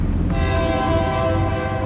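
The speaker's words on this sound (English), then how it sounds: "Okay, the train coming." A train horn blares with a sustained, steady tone as a train arrives at Bang Sue station in Bangkok, loud and close over the rumble of the rail cars, with no talking.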